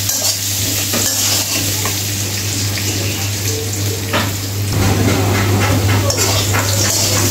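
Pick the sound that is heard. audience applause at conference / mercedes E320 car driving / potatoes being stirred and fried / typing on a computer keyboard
potatoes being stirred and fried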